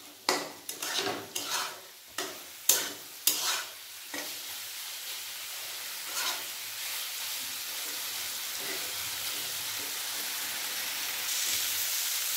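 Soybean curry being stirred and fried in a pan, with a run of sharp spatula scrapes and clatters against the pan over the first four seconds, then a steady close sizzle that continues on its own.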